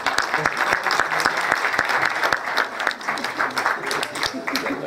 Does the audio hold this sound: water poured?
no